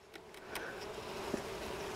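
Buckfast honey bees buzzing at an opened hive, a steady low drone of many insects close by, with occasional individual bees passing near.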